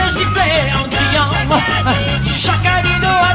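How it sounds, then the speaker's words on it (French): A live 1969 concert audience whistles and shouts together during a call-and-response song, a dense wash of shrill whistles and cheering voices that stays loud and continuous. "Jacadi de siffler en criant."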